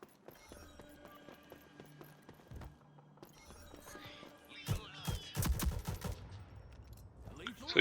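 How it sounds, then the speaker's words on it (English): Short bursts of assault rifle fire in Rogue Company, sharp clustered cracks arriving in the second half over quieter game ambience, getting louder toward the end. "So you'll see some examples of that more burst fire way of playing with this AR that I was talking about."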